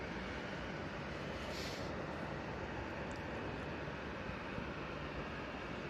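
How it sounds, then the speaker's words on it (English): A Ryanair airliner arriving at Manchester Airport, heard as a steady, broad engine roar that holds at an even level for several seconds with no other sounds. "Ryanair just arriving now"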